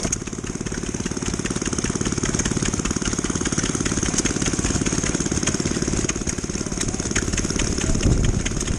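A steam engine runs at the Strumpshaw steam rally in wet, muddy weather, a steady rapid chugging beat close by with a metallic clatter that swells slightly near the end.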